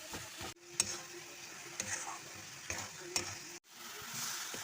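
Coconut and jaggery filling for mung bean puli pitha is stirred in a pan: a steady sizzle with repeated scraping strokes, brief gaps between them, close and moderately loud with no talk.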